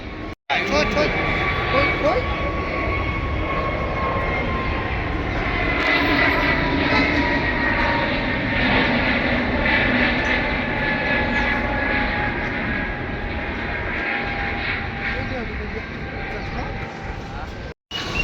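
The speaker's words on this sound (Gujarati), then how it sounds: "તો ગાઈઝ બીજું પણ વિમાન આવી ગયું છે" A loud, steady airplane engine roar fills the whole stretch as a plane arrives at Ahmedabad Airport, close by and continuous, with a brief break near the end.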